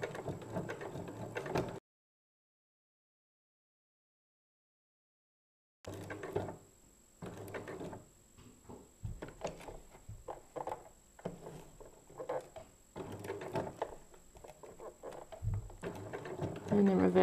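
A sewing machine reverse stitching while a wrist pin cushion with a Velcro strap is being sewn, giving short bursts of rapid mechanical whirring and clatter broken by pauses and a silent gap, up close.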